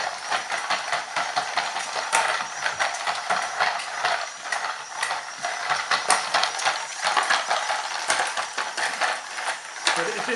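A small, light motor driven by two AAA batteries whirs steadily inside a toy robot, giving a continuous busy mechanical buzz with gear-like ticking, fairly close and without talk.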